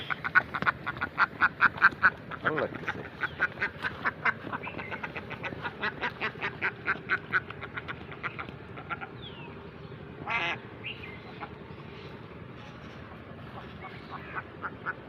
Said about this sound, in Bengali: এদিকে আবার একটা হাঁস